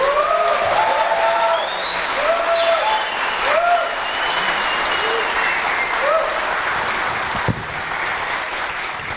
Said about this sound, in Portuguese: Uma salva de palmas para Djamila.